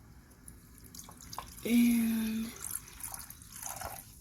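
Water runs from a faucet in a steady stream for nearly a second, then cuts off; a brief spoken word and quiet room noise surround it.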